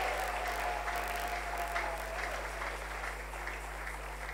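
Church congregation applauding together to acclaim the Lord during a French-language sermon, a steady broad clapping wash held at even loudness throughout, with a faint sustained tone running beneath the first half.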